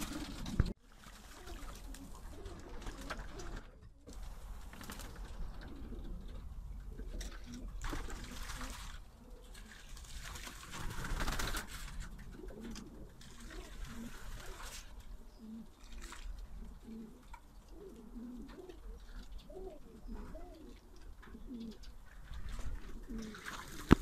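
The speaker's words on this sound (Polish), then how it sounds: "za 4 minutki wypuszczam ptaki, zobaczymy jak odejdą" Racing pigeons coo in a loft, a steady low murmur of overlapping coos running the whole time with faint trickling in the background and no clear talk.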